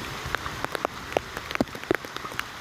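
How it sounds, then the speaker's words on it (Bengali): Heavy rain in a village, with close, irregular drops tapping and pattering on a nearby surface over a steady soft wash of falling water. "তো আমরা ভাবছিলাম বৃষ্টি কেটে যাবে, তো অ্যাকচুয়ালি না, বৃষ্টি আরও"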